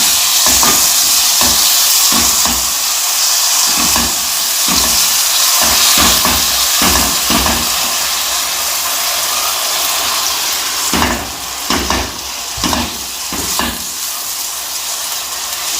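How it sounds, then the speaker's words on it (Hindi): Sugar with a little water sizzles and hisses in a pan over a low flame while being stirred for Punjabi seviyan matanjan, a loud continuous frying hiss broken by rhythmic scraping strokes. "चीनी को मेल्ट करेंगे। स्लो आंच पे।"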